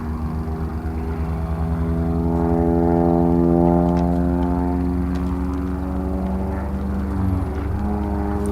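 An aerobatic airplane flying competition figures at an advanced-level event, its propeller engine droning steadily and loudly throughout, with a slight swell in the middle and a change of tone near the end.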